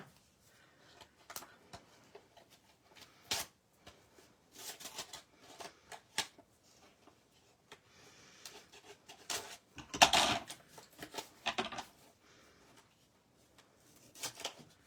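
Someone struggles to open a plastic stamp package, with crinkling, tearing and snipping sounds in irregular close bursts separated by quiet gaps.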